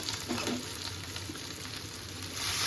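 A spiced mixture of fish head and puffed rice fries hard in a pan as plain water is poured in, giving a steady, close, fairly quiet sizzle that swells slightly toward the end.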